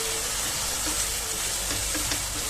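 Mushrooms dropped into hot oil with fried spices give a steady, close sizzle and crackle of frying with faint stirring, continuous throughout and with no talk.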